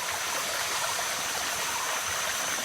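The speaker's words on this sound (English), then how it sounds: "So the stream that I was by is now down there and flowing downhill." A stream flows downhill outdoors, giving a steady, dense rushing of water with a constant hiss and soft gurgle. The sound is even throughout, moderately close, and no one speaks.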